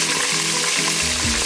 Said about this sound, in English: we're gonna be frying some oysters